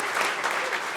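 A crowd at a live conversation event claps in a full, continuous burst of applause, close and loud, with no talk on top.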